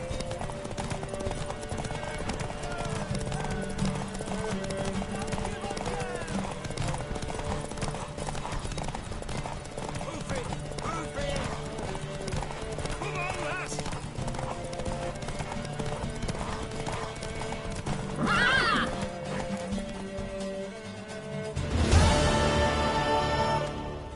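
Horse hooves clip-clopping at a steady pace in The Witcher 3, with a loud neigh and whinny toward the end, set against game music and ambient sound.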